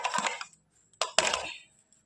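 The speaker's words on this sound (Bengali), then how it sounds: "এই যে এবার এটা পাত্রে ঢেলে নিলাম।" Cut pieces of raw green mango tip into a bowl in two quick clattering bursts, the second longer and louder, with a short pause between.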